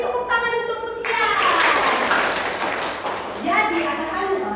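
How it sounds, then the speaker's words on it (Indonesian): A class of schoolchildren claps for their teacher in a brief burst of applause that swells, then fades, mixed with their voices. "Beri tepuk tangan untuk Bu Tia."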